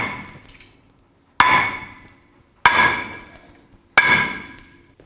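Three heavy metallic hammer blows on the back of a stuck front brake rotor on a 2008-2010 Ford F-250, struck a second or so apart, each ringing out and fading, loud and close.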